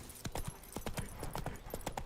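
Horse hooves clip-clopping at a brisk, steady trot in The Witcher 3 video game, the crisp evenly spaced hoof strikes close and clear with nothing else over them.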